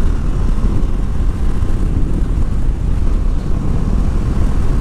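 A Bajaj Dominar 400 motorcycle engine runs steadily while riding, a loud, continuous low rumble mixed with wind noise that holds throughout with no breaks.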